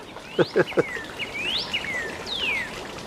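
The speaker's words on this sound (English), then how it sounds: "Listen to those birds. This must be the mating season." Birds sing nearby with bright sweeping whistles and chirps, joined early by three quick lower cooing notes outdoors.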